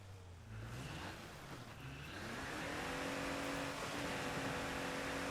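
Car driving in the video game State of Decay 2, an engine whose pitch sweeps upward as it accelerates into a sustained rising drone, with no clear crash or smash audible.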